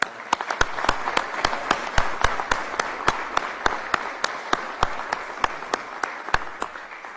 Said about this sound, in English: I'd like y'all to give Kevin a round of applause